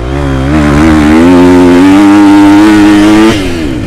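A 2023 Husqvarna FC 250 motocross bike engine revs hard and close, pitch climbing and holding high against the rev limiter for a few seconds before dropping off.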